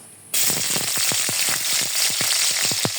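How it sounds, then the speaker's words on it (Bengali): Sliced onions fry crisp in hot oil, a loud dense sizzle that starts abruptly, with rapid popping crackles spattering throughout. "পেঁয়াজ বেরস্তা হয়ে গেছে এখন দিয়ে দেবো মরিচ"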